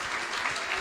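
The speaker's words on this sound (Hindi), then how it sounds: "जोरदार तालियां बजा दें मेरे यीशु के लिए." Church congregation at a Wednesday prayer service applauding, a steady dense wash of many hands clapping throughout the brief moment.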